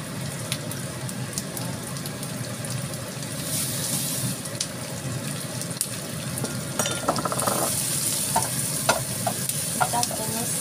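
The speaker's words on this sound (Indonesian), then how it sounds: "Tumis bawang bombay, bawang merah, bawang putih jadi satu ya." Onions, shallots and garlic sauté together in oil for fried rice, a steady broadband sizzle with stirring clinks and scrapes from a spoon or spatula building toward the end, close and continuous with no talk.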